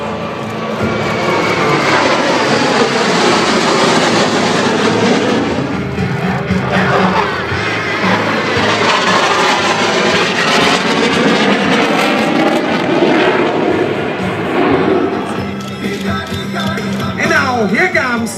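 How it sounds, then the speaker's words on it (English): Aerobatic jets of the Smoky Bandits team roar overhead during an aileron roll at the 2012 Singapore Air Show, a loud sustained engine rush with swelling and fading passes and crowd noise beneath. "Here comes Smoky 5 as he directly flies through the center of the formation in an aileron roll."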